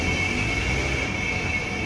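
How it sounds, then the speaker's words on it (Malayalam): A Dubai Metro train heard from on board or at the platform near Deira City Centre gives a loud, steady rumble with a sustained high whine over it, continuous and close. "മെട്രോയിൽ കയറാം. പ്ലാറ്റ്ഫോം നമ്പർ 1 പോകാനുള്ളത്."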